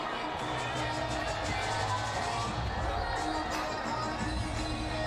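Stadium crowd at a 2011 Cricket World Cup match against the Netherlands applauds and cheers a bowler's hat-trick, a dense, steady wash of clapping and voices filling the whole stretch with no clear break.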